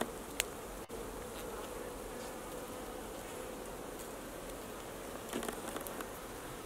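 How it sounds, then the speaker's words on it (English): Honey bees buzzing steadily around a young, small hive during a first inspection, a soft continuous hum at moderate distance with faint rustles. "And here we have our bees."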